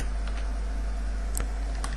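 Fast typing on a computer keyboard to enter a compile command, with soft, rapid key clicks over a steady low hum and a couple of sharper keystrokes.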